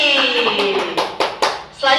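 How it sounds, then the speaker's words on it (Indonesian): At a kindergarten quiz contest, children clap their hands together for a classmate, several sharp claps in a quick irregular burst. A close adult voice talks over them. "Oke, tepuk tangan untuk Fikri."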